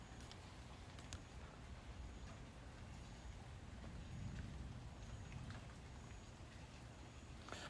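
Steady rain falling outdoors in a garden with a kiwi vine on a trellis during a summer thunderstorm, a continuous soft hiss and patter at moderate distance with no clear thunder or voices.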